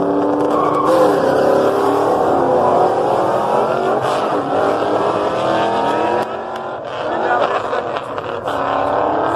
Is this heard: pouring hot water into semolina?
no